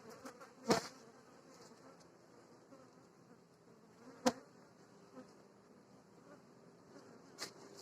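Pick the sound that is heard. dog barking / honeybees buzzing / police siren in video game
honeybees buzzing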